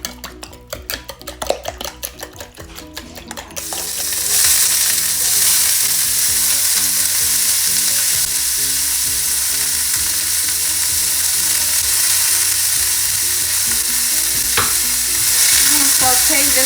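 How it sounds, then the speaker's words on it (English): Food sautés in a pan while making a breakfast burrito: a few light clinks give way to a loud, steady sizzle that carries on alone without pause. "Saute this for about 2 minutes, then we'll add our eggs."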